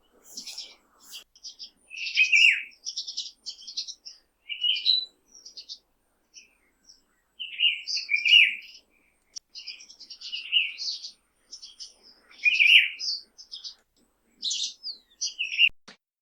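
Bright bird chirps and short trills, including ibises, come in scattered bursts against a quiet background, some notes near and clear, others softer.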